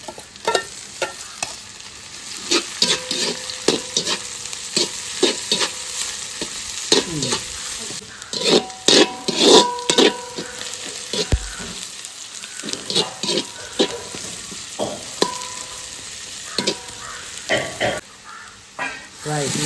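Curry leaves crackle and spit in hot oil in a pan, giving sharp irregular pops and sizzle bursts, with a spoon clanking and stirring. A few quiet pauses break up the frying.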